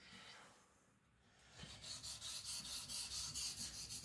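A custom EDC knife of 75CR1 steel is sharpened on a stone to lower the edge and add a micro bevel: a faint scrape, then steady, rhythmic rasping strokes, close and continuous without talk.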